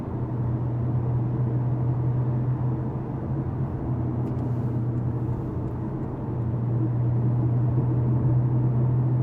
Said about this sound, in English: There is some tire noise. This is a louder road surface, but the wind noise is really kept low.